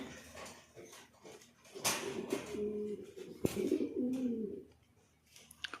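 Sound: pigeons cooing in a loft

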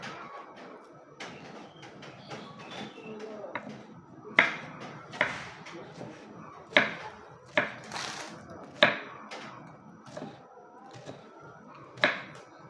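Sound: cutting enoki mushrooms

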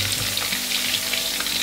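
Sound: chicken balls deep-frying in oil

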